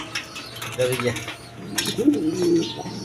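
Pigeons kept for sale as breeding pairs with eggs and chicks give soft, throaty coos in two short bursts, close by, over a busy background of shuffling and rustling.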